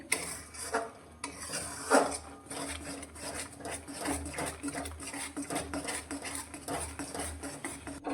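Grated coconut and sugar being stirred in a pan with ghee, a spoon scraping and clinking against the metal in steady repeated strokes, fairly close and moderately quiet, with no talking.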